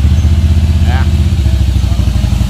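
A Harley-Davidson Fat Boy motorcycle idles nearby with a loud, deep, steady exhaust rumble and a pulsing beat throughout. A brief rising voice-like sound cuts in over it.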